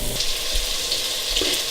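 Onions sautéing and caramelizing in a pan, a brief steady sizzle with a couple of soft low bumps, no talking.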